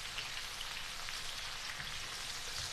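Chicken pieces fry in a ceramic coated pan with a steady, soft sizzle and crackle, quiet and even throughout with no talking.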